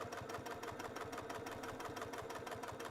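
A sewing machine stitches a lined zipper pouch in a fast, even run of needle strokes, a quiet mechanical chatter with a motor hum that keeps going without a break.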